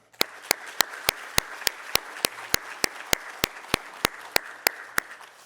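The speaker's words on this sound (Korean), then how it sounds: "우리 교육부 자녀들을 위해서 우리 축하와 또 축복의 박수 부탁드립니다." A church congregation applauds to celebrate the children of its education department, a soft steady patter of many hands with one sharp, evenly spaced clap sounding close by throughout.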